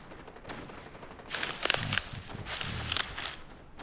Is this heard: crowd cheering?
no